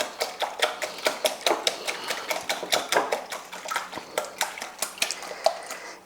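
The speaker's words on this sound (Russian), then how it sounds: "Теперь я взбиваю яйцо." A fork or whisk beats an egg in a bowl for yeast pancake batter, giving a steady, rapid run of close clinks and scrapes against the bowl with no talking.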